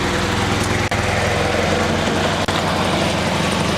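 A Honda Civic wagon's B20 VTEC engine idles with a header exhaust leak, a loud, close, steady rumble with a fine rapid pulsing and two brief dropouts.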